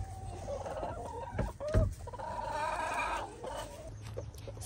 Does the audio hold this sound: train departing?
no